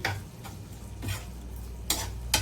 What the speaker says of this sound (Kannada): ಇದೆಲ್ಲ ಹಾಕಿ ಒಟ್ಟಿಗೆ ಮಿಕ್ಸ್ ಮಾಡಿ